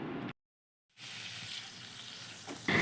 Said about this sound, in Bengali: আমি কড়া একটু তেল দিয়ে চিংড়ি মাছগুলো ভাজতে দিয়েছি